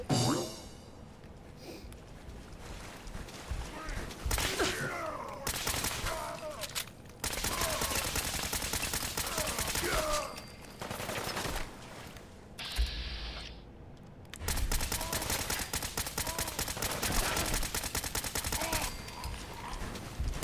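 Bursts of assault rifle fire in Fallout 4, loud sustained volleys broken by short pauses and reload gaps, with some game sounds between bursts.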